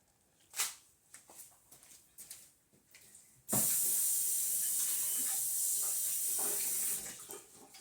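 Hands rinsed with soap containing green and gold mica under a running tap: a loud, steady rush of water starts abruptly partway through and runs for several seconds, after softer handling and splashing sounds.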